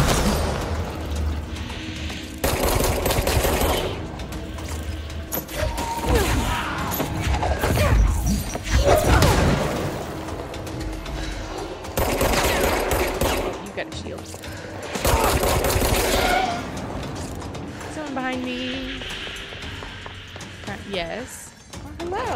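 Gunfire in Control's AWE expansion, bursts of rapid shots and booms repeating through a garage fight, with a person talking over the action.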